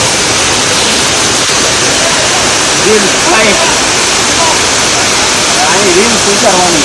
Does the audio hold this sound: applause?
no